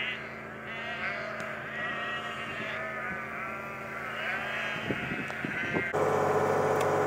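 Sheep bleat repeatedly beside a canal in the Leicestershire countryside, loud and close, with a low steady engine-like hum underneath and a brief clatter near the end.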